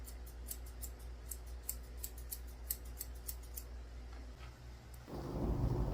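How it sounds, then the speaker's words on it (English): Straight grooming scissors snip in a quick, regular rhythm through the chest hair of a Cavalier King Charles Spaniel, crisp and close over a low background hum, before a louder rumble takes over near the end. "I'm trimming up under his chest with my straight scissors"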